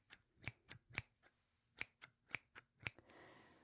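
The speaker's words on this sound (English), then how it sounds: "It was very relaxing to hear the constant snip, snip, snip, snip" Scissors snip crisply and close during a barbershop haircut: about eight sharp, quiet cuts in an uneven rhythm, followed by a soft rustle.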